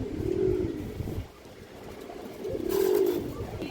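Indian highflyer Kaldom pigeons give two soft, rolling coos about two seconds apart, close by and moderately quiet, with faint background noise and no talking.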